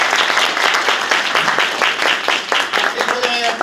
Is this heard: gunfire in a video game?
no